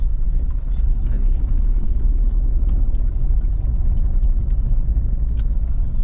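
A Maruti Dzire car climbing a hilly road, its engine a steady low rumble heard from inside the cabin throughout, with faint rattles and a voice speaking now and then.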